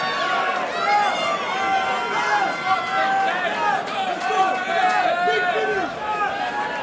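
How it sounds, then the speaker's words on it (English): A white collar boxing crowd roars and cheers ringside, a dense, steady wall of many voices shouting at once, loud and close throughout. "Listen to this crowd."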